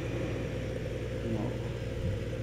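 Tractor engine in the Farming Simulator 2015 video game, a steady low mid-pitched rumble running continuously at a constant level, with faint talk mixed in.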